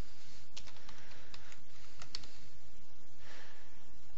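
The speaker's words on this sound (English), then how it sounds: "Now I'll just type that in," Keys tapped on a computer keyboard as a web address is entered, a quiet irregular patter of clicks over steady background hiss, with a soft breathy sound near the end.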